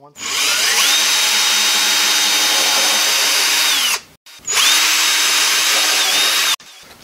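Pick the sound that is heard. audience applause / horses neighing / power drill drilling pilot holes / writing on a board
power drill drilling pilot holes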